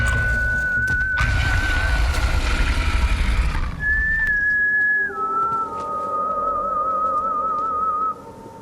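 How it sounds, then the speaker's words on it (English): A person whistles a wavering, melodic tune in Borderlands 3, the notes held and gently warbling, clear and fairly close, first over a burst of rumbling noise that cuts off, then alone until it stops. "Someone was whistling."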